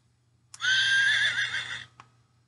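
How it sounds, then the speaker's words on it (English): A recorded horse neigh plays from a touch-and-hear children's book: one clear, bright whinny lasting over a second, starting and ending with a click, heard close with a faint hum beneath. "Touch the horse's mane to hear her neigh."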